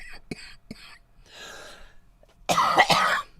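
A few sharp coughs sound up close, followed by a breathy rasp and then a louder, harsher burst of coughing near the end.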